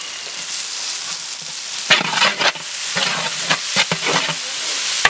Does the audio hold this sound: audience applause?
no